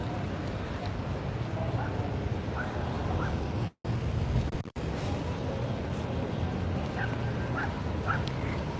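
Dogs at a dog park in the Le Marais district of central Paris give a few short, faint yips and whimpers amid steady street noise, with voices nearby.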